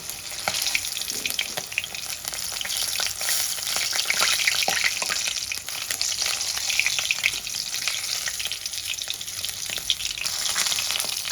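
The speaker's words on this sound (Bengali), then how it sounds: "বাকি মাছগুলো আমি এরকম লাল লাল করে ভেজে নেব।" Pieces of katla fish frying in hot oil for a potato and fish curry, giving a steady, dense sizzle with small crackles throughout, close and fairly loud, with no talking.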